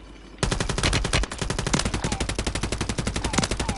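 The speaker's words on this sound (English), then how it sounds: "these guys won't stop shooting me out of the air" Automatic gunfire in the Call of Duty video game: a loud, dense stream of rapid shots that keeps firing in steady bursts for several seconds, with no talking over it.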